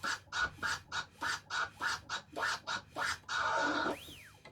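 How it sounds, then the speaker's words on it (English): Rapid DJ chirp scratches on a turntable, a quick rhythmic series of short squawking bursts cut by the crossfader, ending with a longer sweep that rises and falls. "you can do a longer sounding chirp where you've got more of the sample on it, or a short, quicker chirp"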